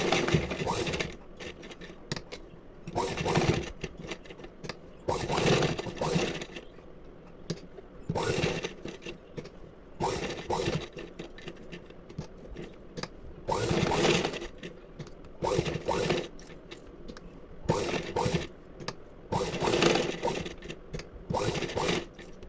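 A sewing machine stitches hook-and-eye tape in repeated bursts of rapid mechanical whirring and clatter, separated by short pauses, close up with faint background talk.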